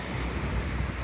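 Sea waves wash steadily along the Yeysk embankment at sunset, a continuous broadband surf roar mixed with wind buffeting the microphone, loud and unbroken with no talk.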